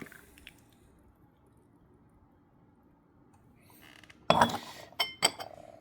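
Puer tea rinse from a 2018 ripe Lao Cha Tou being poured out of a clay gaiwan, with a quiet lead-in, then a wet splash and a few clinking, squishing handling sounds close by.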